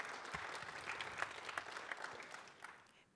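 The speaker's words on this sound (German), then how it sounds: "Ich glaube, das braucht auch einen Applaus einfach." Audience applause at a talk on Cradle to Cradle printing: a moderate, dense patter of many hands clapping that holds steady, then thins and fades out toward the end.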